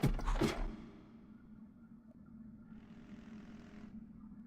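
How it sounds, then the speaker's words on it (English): A drone hovers close by in the survival video game Forever Stranded, a steady low motor drone with a brighter whirring buzz that swells briefly mid-clip, following a short loud knock at the start. "I hear a drone so close."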